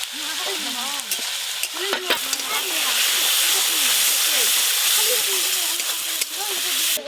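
Onion, ginger and garlic sizzle loudly in oil as a ground spice paste is stirred in for an outdoor picnic biryani, with a steady hiss and scraping stir strokes throughout while someone talks over the cooking.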